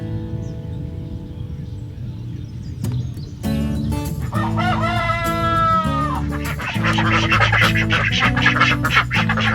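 Chickens in a hoop coop cluck and call steadily and close by, with a rooster crowing loudly in the middle of the flock's chatter.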